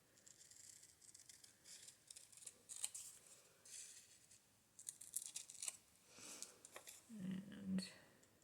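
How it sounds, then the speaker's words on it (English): Scissors snip paper for a craft project in soft, quiet, uneven cuts with light rustling of the sheet between them, faint and close. "I think I want to cut this a little bit out, like the shape"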